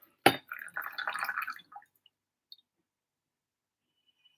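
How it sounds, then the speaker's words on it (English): Brewed Hou Kui tea is poured out of a vessel in one short splashing burst lasting about a second and a half, close and fairly loud, followed by a couple of faint drips and then quiet. "Now I'm going to pour the whole thing out."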